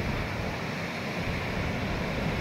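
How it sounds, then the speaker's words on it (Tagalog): Big ocean waves breaking at San Juan, La Union beach, a continuous loud roaring wash of surf blended with wind buffeting the microphone, with no talk. "laki kasi ng alon"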